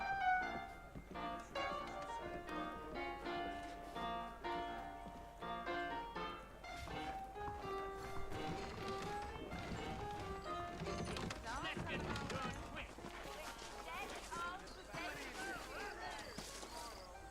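Horse hooves clip-clop in Red Dead Redemption on PS3 as saddled horses set out across New Austin, with rhythmic hoofbeats beneath someone talking and a backdrop of western music.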